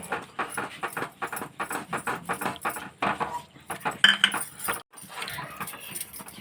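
A spoon stirring milk powder into thick sugar syrup in a pan for Afghani sweet, repeated rhythmic scraping and clinking strokes, close and fairly loud, with brief pauses.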